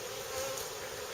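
Honey bees swarm around an open hive during a Varroa mite treatment, a close, continuous droning buzz, steady and unbroken with no talk.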